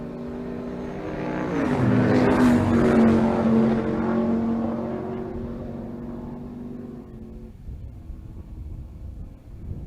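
Pickup trucks, a pair of Chevrolet Silverados, launch side by side at a drag-and-drive race, engines roaring loud and rising as they accelerate away, then fading into distant crowd and track noise.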